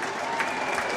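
A hockey crowd at the Colisée de Laval rising after a fight, sustained loud cheering and clapping from a packed arena that keeps going without a break.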